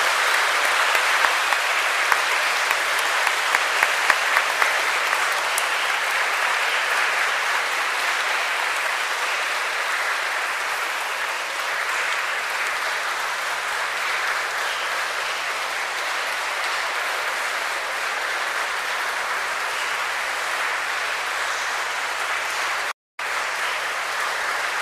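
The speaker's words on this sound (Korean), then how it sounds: "네, 큰 박수 부탁드립니다." At a baptism ceremony, an audience gives sustained, dense applause that holds steady and loud for the full length, a broad wash of many hands clapping with a brief cut near the end.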